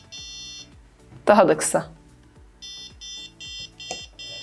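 Short electronic buzzer beeps from a Pinoo-board parking sensor project repeat in a steady pattern that shifts in pace as distance changes, with a brief spoken remark partway through.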